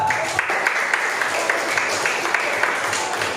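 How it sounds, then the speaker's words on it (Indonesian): A classroom of students applauds a student group, a dense steady patter of many hands clapping close by for a few seconds, with no voices standing out. "Tepuk tangan untuk kelompok siswa."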